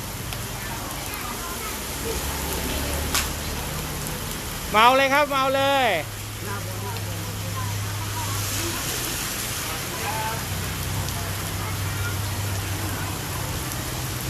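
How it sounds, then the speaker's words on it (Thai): Steady rain hisses throughout, with a voice briefly speaking over it partway through. "ฝนตกครับ"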